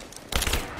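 A short burst of rapid video game gunfire breaks out after a moment of quiet, loud and dense for about a quarter second before trailing off.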